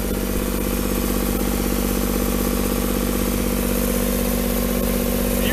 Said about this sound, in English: It's electric start. Cylinder diesel motor.